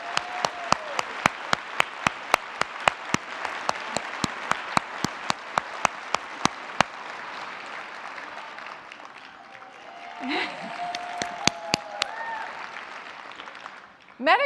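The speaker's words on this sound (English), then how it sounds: "So let's give them a round of applause." Audience applause fills a conference general session, a dense steady clapping with sharp individual claps standing out, tapering off partway through as a speaker's voice comes in near the end.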